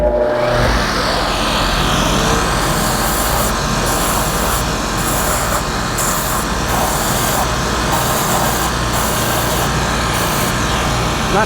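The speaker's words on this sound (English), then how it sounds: "we'll go to the sander" A power sander grinds the padding off the sole of a Sperry boat shoe, a loud, continuous motor whine with a rough abrasive hiss and slight fluttering pulses throughout.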